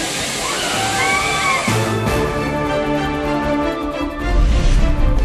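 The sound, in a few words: Courtallam waterfall in Tenkasi district, steady water flow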